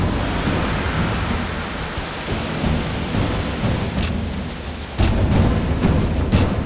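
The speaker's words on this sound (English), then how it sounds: "This is Dettifoss waterfall. It's the largest waterfall in all of Iceland." Dettifoss waterfall in Iceland, Europe's largest by volume, rendered as a powerful continuous roar of falling water with a deep rumbling low end, steady and loud throughout and rising slightly near the end.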